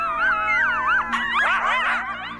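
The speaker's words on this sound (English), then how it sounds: "The pups join in the howl with their higher yips." A coyote pack howls in autumn in Yellowstone, long wavering howls overlapping with the pups' higher yips, close and clear with no talk over it.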